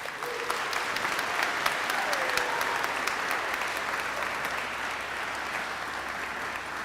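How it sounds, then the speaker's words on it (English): A crowd at a 12th grade high school graduation ceremony applauds steadily, a dense, even wash of clapping held at full strength throughout with no voices on top. "Let's give them all a huge thank you and a round of applause."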